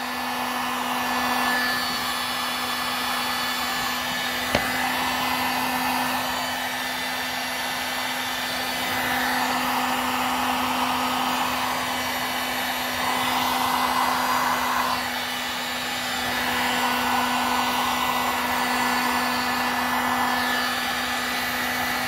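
Heat gun blowing on shoe material, a steady whirring fan hum with a constant airflow hiss, close and even, swelling slightly in gentle pulses as it is moved back and forth.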